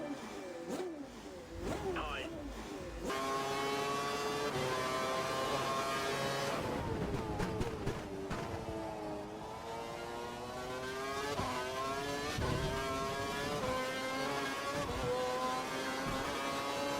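Formula 1 race car engines in a racing video game, a high-pitched whine that revs up and down through gear changes, continuous and loud, with someone talking over it.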